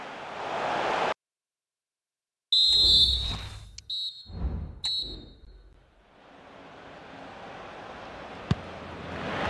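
Short sharp referee whistle blasts sound in an EA Sports FC 25 football match on Nintendo Switch, a couple of piercing toots amid crowd ambience.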